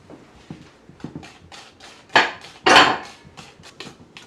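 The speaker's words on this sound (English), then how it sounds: "we're going to stir this in, which is the cocoa. Okay, whisk that in." A whisk works cocoa into flourless chocolate cake batter in a bowl, making a quick series of light taps and clinks, interrupted by two louder, longer scraping strokes.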